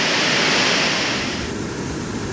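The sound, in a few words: waterfall in the rainforest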